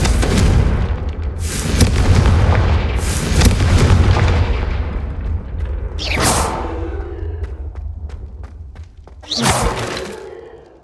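Confringo blasting spell explosions in Hogwarts Legacy, a series of heavy booms with rumbling tails, loud and close, followed by a sharp crackling blast and a final burst near the end, with mechanical creaks between.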